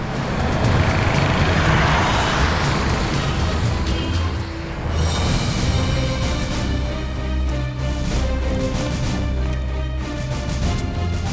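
A car creeping along slowly produces a continuous close rumble of engine and road noise, with a rattling, gritty texture that persists evenly for the whole stretch.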